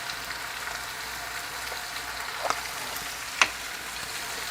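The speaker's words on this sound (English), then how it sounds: "I just want to saute this until it gets nice and soft" Chopped garlic with kosher salt sautéing in a pan, a steady close sizzle with a couple of brief clicks from stirring, no talking.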